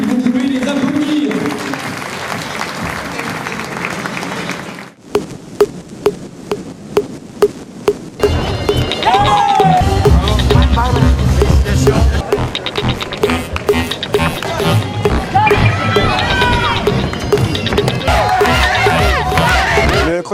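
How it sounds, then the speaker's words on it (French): An audience applauds and cheers for Miss Lorraine 2016 at a public event, with loud crowd noise and shouts, a stretch of sharp separate claps, then a dense roar of clapping and cheering over music. "vous pouvez les applaudir"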